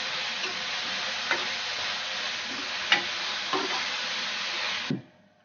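Four finely chopped onions fry for egg masala in a loud, even, hissing sizzle, with a few light taps from stirring, before the sizzle cuts off abruptly near the end.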